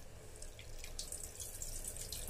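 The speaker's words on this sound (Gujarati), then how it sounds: "પાણી કાઢી લેવાનું" Soaking water is drained off lentils for idli batter, giving a faint, steady, running-water hiss with light splashy trickles from close by.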